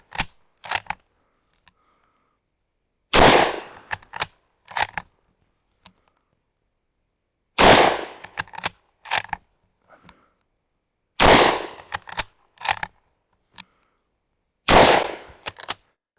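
Five loud, sharp gunshots from a Portuguese Mauser-Vergueiro 1904/39 bolt-action rifle ring out several seconds apart, each followed by quick metallic clacks of the bolt being worked, with no talking.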